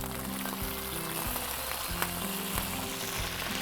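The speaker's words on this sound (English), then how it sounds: "My green beans are in the pan, guys. Green beans in the pan, chili peppers in." Green beans and chili peppers sizzle steadily in a hot pan, a close, continuous frying hiss with low rhythmic scraping or stirring beneath it, no voices.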